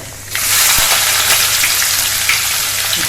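Onions hit hot oil already holding cloves, black pepper, cinnamon and cumin for restaurant-style matar paneer, setting off a sudden loud hiss that keeps roaring steadily close up, with a faint clink near the start.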